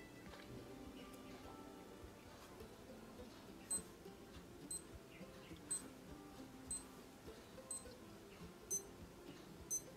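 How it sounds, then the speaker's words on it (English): A Casio G-Shock 2836 watch countdown timer emits short high beeps about once per second, seven evenly spaced chirps over a soft low background hum. "It will beep every 1 minute at the last 5 minutes actually if I set the reset timer"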